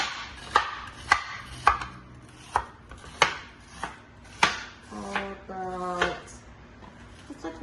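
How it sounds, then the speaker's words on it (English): A knife julienning onions on a cutting board, a string of single sharp, spaced chops at a steady, unhurried pace, close and clear, with a short voiced sound near the end. "But I'm gonna julienne the onions."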